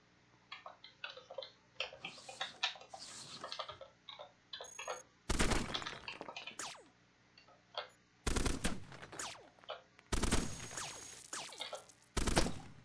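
Gunfire from the video game Cogmind, clicky ticking interface sounds followed by several loud bursts of rapid synthetic shooting and blasts that come in separate volleys, no talking.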